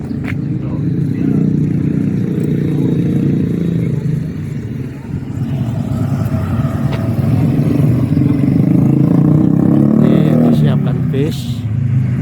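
Engine of a shuttle bus bound for Plengan rumbles steadily at close range throughout, with people talking over it.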